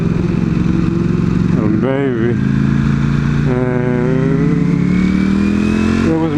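A video game motorcycle engine revs loudly in a few rising and falling bursts over a steady drone, with a voice talking throughout.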